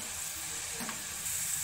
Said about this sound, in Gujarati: આપણે તેને 5 થી 6 મિનિટ માટે આ રીતે તળવા દેશું, જેથી તે બરાબર રીતે તળાઈ જશે।